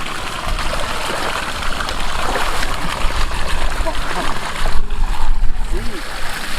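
Water gushing from the output pipe of a siphon pump drawing from a river, a loud continuous splashing stream close to the microphone, steady throughout with slight surges near the end.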